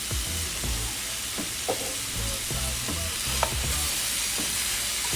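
A jerk chicken pasta mixture with jerk seasoning is stirred in a hot pan, a constant sizzle under repeated scraping and clacking of the spoon against the pan, close up and without speech.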